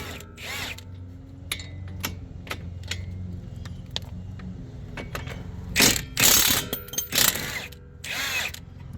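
A ratchet clicks in quick bursts while loosening the 22mm strut-to-spindle bolts on a 2020 Toyota Corolla, with sharp metallic ticks and a few louder clanks of tools and metal near the end, close and without talk.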